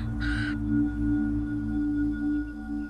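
A raven gives one short harsh caw early on, clear and fairly close, then steady low outdoor background noise continues alone.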